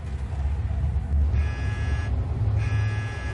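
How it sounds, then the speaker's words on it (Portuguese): An alarm on a solar observatory monitoring the Sun's explosive flare activity sounds a steady electronic buzzing tone in two bursts over a low mechanical rumble, loud and close. "Quando eu ouço esse alarme de explosão tocar, a coisa é bem séria."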